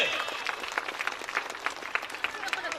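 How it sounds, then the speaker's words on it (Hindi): An audience at a school annual function applauds a young child's performance, with dense, lively clapping and crowd voices mixed in throughout. "तो हम चाहते हैं एक बार और ताली बजनी चाहिए"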